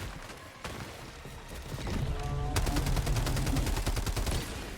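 Autocannon fire in the video game Helldivers 2, starting with scattered shots over battle noise, then a rapid steady stream of heavy rounds with booming thumps, loud and close.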